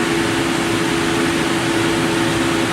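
A double screw and housing machine runs with its screws rotating, a loud steady mechanical drone with a constant hum tone and broad whirring noise throughout.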